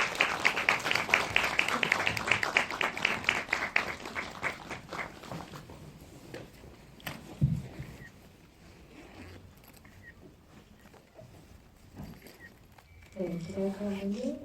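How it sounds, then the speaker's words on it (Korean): A cinema audience applauds as a film director is welcomed for a post-screening talk. The clapping is brisk and fairly close at first, then thins out and fades, and a voice speaks near the end. "큰 박수 부탁드려요."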